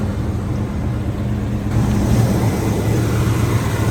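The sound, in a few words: 454 engine running at high idle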